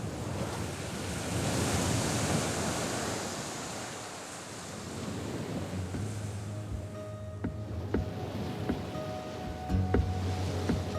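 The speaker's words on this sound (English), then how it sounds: "Lapped by the waves of the Atlantic Ocean, it is the last land before Brazil." Atlantic Ocean surf washing against an island shore, with steady broadband rushing surges swelling and easing under wind buffeting the microphone.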